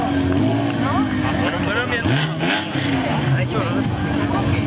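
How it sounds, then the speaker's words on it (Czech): A Toyota-engined Dakar rally car from 2016 roars close by at a truck show, its engine revving and rising in pitch over a loud crowd babble. "Jak sami jste slyšeli, auto, který v roce 16 je na Dakar."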